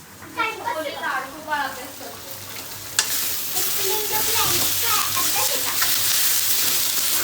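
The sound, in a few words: dried bombil fish masala sizzling and being stirred in a pan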